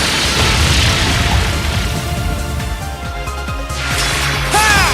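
A heavy attack explosion in the game Trails of Cold Steel II, with loud, continuous booming rumble and crashing bursts that fill the whole stretch without letting up.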